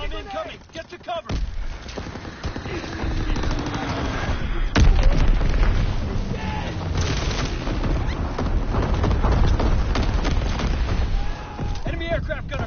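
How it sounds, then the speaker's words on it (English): Bombs exploding in Call of Duty WW2 during an air raid, a sharp loud blast near the middle followed by rumbling booms and scattered gunfire that carry on through the rest of the battle. "Enemy bomb incoming. Get to cover."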